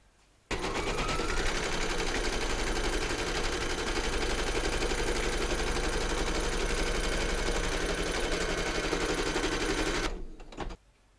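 An embroidery machine stitches batting held in a hoop, a fast, even mechanical chatter that starts abruptly, runs steadily for about ten seconds and then stops, close and alone.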